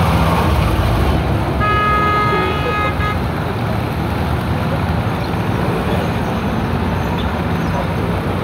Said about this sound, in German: wirklich Benzinmotor, 8 Zylinder mit 180 PS